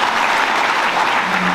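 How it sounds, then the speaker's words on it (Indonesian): An audience at a university inauguration ceremony gives Ina a loud, dense burst of applause that fills the whole moment at close range. "Itu tepuk tangan buat Ina lagi."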